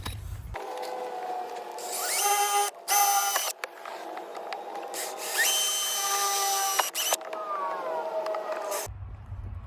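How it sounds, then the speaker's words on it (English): Power drill with a 1/16 bit boring a pilot hole in a car pedal, a close whining motor pitch that rises and dips as it bites through metal, running nearly continuously for several seconds. "So I did the first pilot hole with the 1/16 bit"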